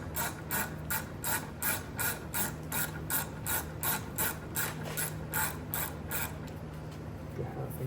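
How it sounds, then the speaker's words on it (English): A ratchet with a 14mm socket tightens rear brake bolts on a 2011-2015 Kia Optima or Hyundai Sonata, giving a close, quiet series of rhythmic clicking bursts that continue steadily throughout. "Grab my ratchets and my 14mm. You're gonna tighten away."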